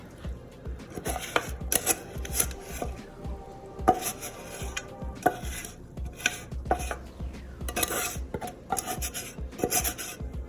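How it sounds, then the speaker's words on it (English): Sticky Mars bar and Rice Krispies mixture is spooned into an ungreased square baking pan, giving irregular scraping, rubbing and clunking knocks of spoon against metal at close range, with no talking. "I'm just going to spoon this in my ungreased square baking pan"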